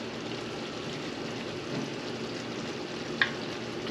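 Bacon jam sizzling steadily in a pan as it is stirred often to keep it from sticking to the bottom, a continuous soft crackle with one brief scrape near the end.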